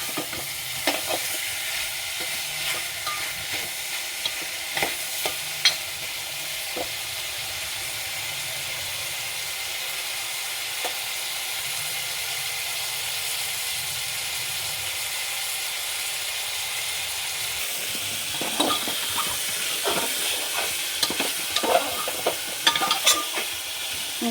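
Chicken pieces and garlic frying in butter in a pan for a stew, giving a soft continuous sizzle with occasional stirring scrapes that grow busier toward the end.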